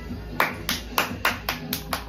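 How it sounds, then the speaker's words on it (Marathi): Hands clap at a children's birthday meal of mutton and chicken, a steady run of about eight sharp, close claps spaced evenly over a low background hum. "टाळ्या वाजवतोय"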